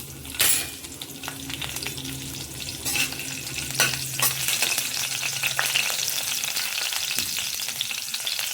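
Green chilies fry in hot ghee for a chivda, giving a steady close-up sizzle with scattered clicks and scrapes from stirring throughout.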